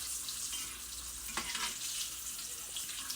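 Green tomatoes fry in a pan, giving a steady, close hiss of sizzling oil with a brief stir partway through and no voices.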